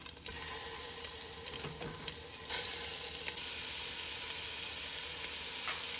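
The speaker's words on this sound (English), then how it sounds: "go ahead and toss these in here so they can brown as well" Meatballs for caldo de albóndigas sear and brown in a pot, giving a continuous hissing sizzle that swells louder partway through, with a few faint clinks and no talking.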